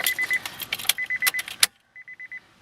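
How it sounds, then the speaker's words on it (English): Keys jangle and click in the ignition of a 6th-generation Honda Accord, with a steady electronic chime beeping in repeated short pulses, close and clear with no talking. "I'm gonna turn the car to on"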